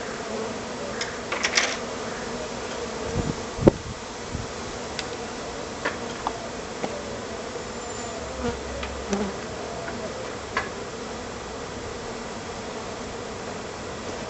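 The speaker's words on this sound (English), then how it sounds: "Now that is one hell of a swarm." A swarm of honeybees buzzes steadily around a beekeeper in a bee suit, a constant mid-level hum of many insects with occasional sharp ticks and bumps close by, no talking.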